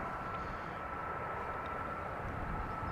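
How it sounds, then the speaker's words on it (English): Boeing 737 taxiing at Amsterdam Schiphol Airport, producing a steady, unbroken jet-engine roar with a faint whine, heard at a moderate distance with no voices. "737 taxiing to the runway threshold."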